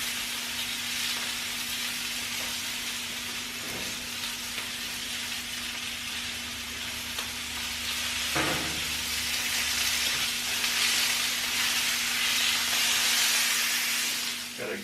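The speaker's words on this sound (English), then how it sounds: "Got a good sear going." Salted steak sears in a hot pan with a loud, continuous hiss and sizzle up close, growing slightly stronger partway through, with a low electrical hum underneath.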